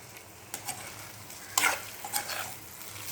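Egg masala podimas frying in a pan with vegetable stir-fry mixed in, a steady low sizzle broken by a few sharp scraping stirs of a spatula, the loudest burst about midway, no voices.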